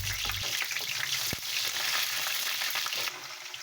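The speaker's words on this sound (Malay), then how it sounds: "Letak minyak dalam periuk, tumis 4 sekawan tu ya, dengan daun kari, dengan bawang." Spice paste, curry leaves and onion sizzle and fry in hot oil in a pot for a Malaysian terung pajri, a steady close crackle broken by a brief stirring knock.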